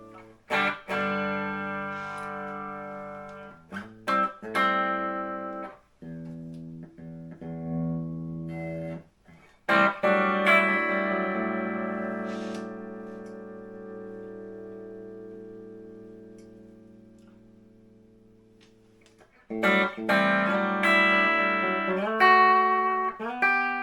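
A 1978 Marshall Master Lead 2199 solid-state guitar amplifier plays a distorted guitar, with bassy sustained chords and single notes ringing out, broken by short choppy strums and pauses.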